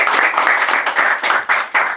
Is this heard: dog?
no